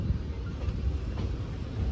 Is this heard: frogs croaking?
no